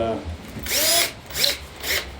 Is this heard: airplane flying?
no